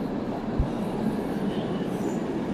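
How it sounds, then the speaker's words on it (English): A train rolls into a station in Belgium, a steady broad rumble of wheels and carriage noise with a low thump early on, fairly close and continuous, with no talking. "I feel like this might be my train."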